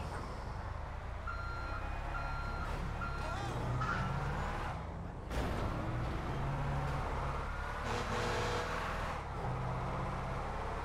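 Car driving in Grand Theft Auto V, a steady engine drone with game traffic and electronic beeps layered over it, continuous and fairly loud throughout, with one short dip midway.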